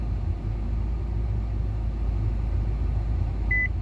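A Mazda CX-5 2.2 diesel's front parking sensor gives a single short beep near the end, heard over a steady low engine rumble inside the car.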